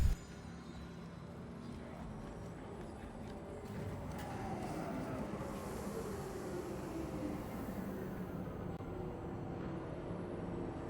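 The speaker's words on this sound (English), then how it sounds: "Tram now leaving the station." A tram pulls away from a station in the Star Citizen game, a steady rumbling hum with a faint rising whine, alone and at an even level throughout.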